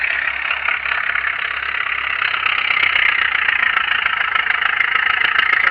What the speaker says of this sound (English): Check it out, putting her to work, making it grunt.